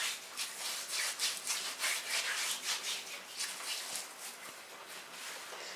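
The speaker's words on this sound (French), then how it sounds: "On va gommer aussi l'autre pied ici comme ça. Sans oublier les talons." Feet and heels scrubbed by hand with a salt exfoliating scrub, making rhythmic, gritty rubbing strokes at close range, about two per second, with no voices.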